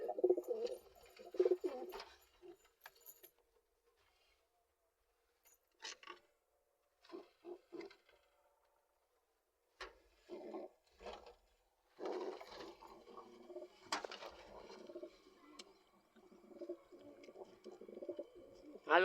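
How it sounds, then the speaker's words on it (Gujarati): Pigeons cooing in intermittent low bursts with pauses between, fairly close, some wing and shuffling noise after bathing and a cleaned loft. "જોઈ શકો છો બધા કબૂતરને"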